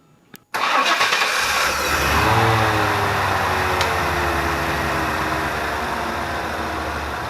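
A Chevrolet Suburban engine cranks briefly after a sharp click, then catches and settles into a steady, loud idle that runs to the end.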